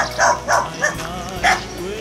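A dog in the countryside of Tri Tôn, An Giang, Vietnam, barks four or five times in a steady rhythm, loud and close, with people talking over and between the barks.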